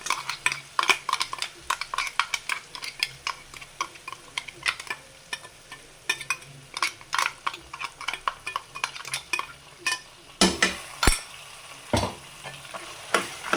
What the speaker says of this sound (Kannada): ರುಬ್ಬಿರೋದು ಮಸಾಲೆ ಹಾಕ್ಕೊಂಬಿಡೋಣ. ಇದು ಹಸಿ ವಾಸನೆ ಹೋಗೋವರೆಗೂ ಹುರ್ಕೊಬೇಕು.